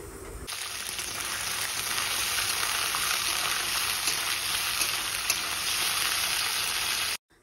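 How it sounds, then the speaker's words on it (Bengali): Soaked chickpeas frying lightly in a pan, a loud, steady hiss and sizzle that starts abruptly and holds evenly for several seconds before cutting off, with no talking. "এখন এই ছোলাটাও কিন্তু ভেজে নেব"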